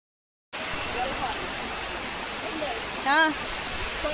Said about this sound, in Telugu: వింటున్నారండి నేచురల్ వాటర్ సౌండ్, పక్షుల అరుపులు.